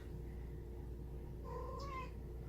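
A cat gives a short meow toward the end, fairly faint, over a steady low hum in an indoor room; no one speaks.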